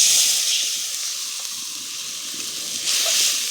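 Water poured into a hot cooking pot while preparing a rice dish, a sustained loud steamy hiss that eases slightly and then surges again near the end, with no talking.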